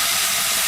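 Chopped tomatoes hit hot oil with frying onions in a pan, giving a loud, steady hiss that fills the whole brief moment with no talking.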